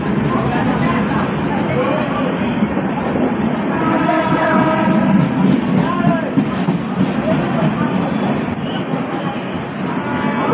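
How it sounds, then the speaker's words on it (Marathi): A Mumbai to Goa train pulls into a station, giving a loud continuous rumble of wheels and carriages with faint clattering, while crowd chatter runs beneath it throughout. "तर आता आपली ही ट्रेन आलेली आहे।"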